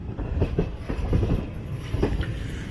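The 12084 Jan Shatabdi Express, pulling out of a station, rumbles nearby with rhythmic clickety-clack of wheels over rail joints, steady and moderately loud, no voices.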